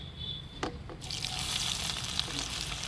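Chopped onions fry in a pan for egg masala curry, a steady bright sizzle that jumps louder after a quiet start with a couple of soft clinks, then holds a dense, even crackle close by.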